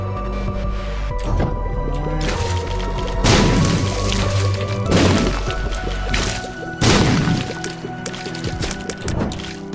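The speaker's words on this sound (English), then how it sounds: "Let's blow up the secret room" Bombs explode in The Binding of Isaac in several loud, booming blasts spaced a few seconds apart. Each blast is followed by crashing debris, set over steady game music.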